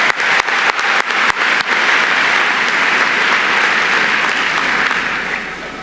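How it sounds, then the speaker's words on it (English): An audience at a Yale graduation ceremony breaks into sustained applause. Several sharp claps stand out at the start, then a dense, even wash of many hands clapping, loud and close, tapering slightly at the end. "let's give them another round of applause"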